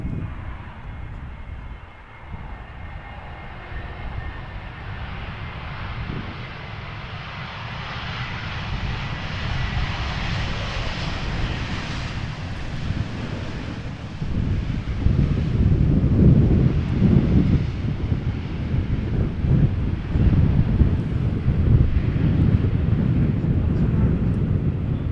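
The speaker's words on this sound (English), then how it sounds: "EasyJet A321 Neo arriving from London Gatwick. Flight 28674, touching down after a flight of 39 minutes." An easyJet Airbus A321neo touches down at Amsterdam Schiphol in gusty crosswind, a broad roaring jet engine sound mixed with wind buffeting on the microphone, growing louder and rumbling through the second half.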